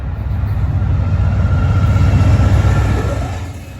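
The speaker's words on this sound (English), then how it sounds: "Here comes my big best friend, the auto train" The Auto Train rumbles past up close, a loud, steady low roar of rolling railcars and wheels on track that holds for several seconds and then starts to fade at the end.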